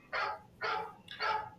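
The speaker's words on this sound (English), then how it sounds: "dogs are barking and everything else." Three sharp barks from a dog, evenly spaced and moderately distant, rising over a quiet background with no talking.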